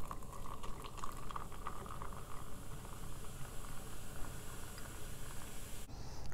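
Tonic water poured into a cocktail glass for an apple and mango cocktail, a steady fizzing, bubbling pour running close and continuous for several seconds before stopping.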